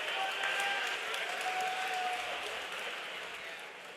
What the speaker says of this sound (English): how about a round of applause for both these combatants going 3 hard-fought rounds tonight